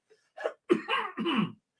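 A man clears his throat in a few short, rough bursts, close and fairly quiet, with no talk.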